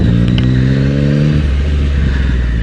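A motorcycle engine revving hard at close range, a loud rising harmonic roar that peaks and then drops back toward idle in a single short burst.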